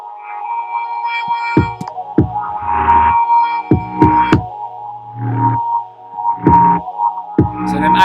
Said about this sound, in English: it's not an 808, sorry, it's the bass that I picked from Alchemy.